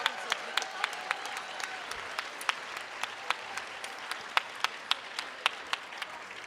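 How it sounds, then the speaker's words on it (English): Applause for sponsors at the 2012 Boulder International Film Festival opening night: fairly quiet, steady clapping from an audience with a few sharp individual claps standing out, continuing throughout without a break. "Big round of applause to all these fabulous sponsors."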